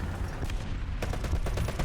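Machine gun fire in War Thunder arcade tank combat, a dense, steady rattle of rapid gunfire lasting throughout, with sharper bursts toward the end over a loud low battlefield rumble.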